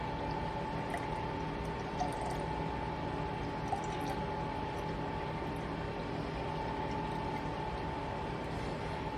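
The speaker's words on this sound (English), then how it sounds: "I'm going to pour that off into another jar" Buttermilk poured from one jar into another, a steady liquid trickle that runs unbroken and fairly quiet beneath a faint constant hum.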